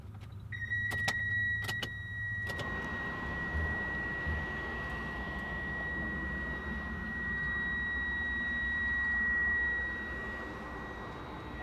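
A 1999 Mitsubishi 3000GT base model engine fires up and settles into a steady low idle, with a few clicks at the start and a faint electronic whine throughout.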